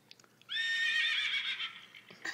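A horse neighs from a children's animal sounds app: a single loud, clear whinny of about two seconds with a wavering, bright tone. A few faint taps come before it and a brief noise follows.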